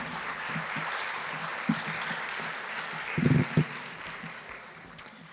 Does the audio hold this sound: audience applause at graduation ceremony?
yes